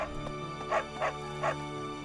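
Dog in the video game Fire Emblem Three Houses, three short yips or barks spaced about a third of a second apart over steady game music.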